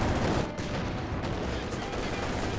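Panzer IV tank cannon fire in a Company of Heroes 2 match, a dense roar of battle with gunfire and explosions filling the mix continuously, loud and steady throughout.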